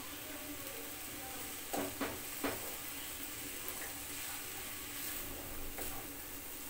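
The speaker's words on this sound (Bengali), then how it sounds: "এখন আমি ভেজে রাখা পেঁয়াজটা দিয়ে নাড়াচাড়া দিয়ে নামিয়ে দিব" Cabbage fry with fried onions stirred in a pan, a steady soft sizzle with a few brief scraping clatters of the spatula near the start, close and moderately quiet.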